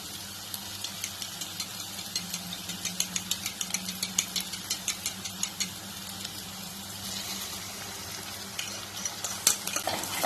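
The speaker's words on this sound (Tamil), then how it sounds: "இப்போ இந்த ஸ்டேஜ்ல எடுத்து வச்சிருக்க முட்டைய நல்லா பீட் பண்ணி அதில் ஆட் பண்ண போறேன்." Beaten eggs are stirred into a frying masala in a pan for Tamil egg rice. A constant sizzle runs under a quick series of spoon scrapes and taps that slows and fades toward the end.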